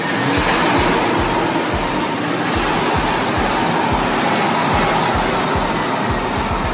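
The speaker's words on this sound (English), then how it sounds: "Car's warming up, engine's sounding smooth." Lincoln car engine running while warming up, a loud steady roar with repeated low pulsing thumps as the throttle is tapped, no voices over it.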